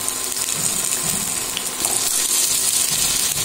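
Potatoes frying in hot mustard oil with salt and turmeric in a home kitchen, a continuous loud hiss and crackle of sizzling oil filling the whole stretch.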